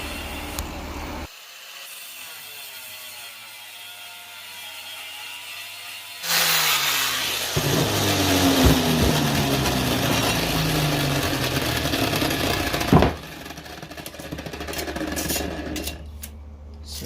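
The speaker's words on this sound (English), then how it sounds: "I'm just sitting back here with the grinder throwing sparks everywhere" A grinder cutting metal for a Toyota FJ Cruiser panhard bar relocation build, throwing sparks; a quiet start gives way to a loud, harsh, sustained grinding roar that runs for several seconds before cutting off near the end.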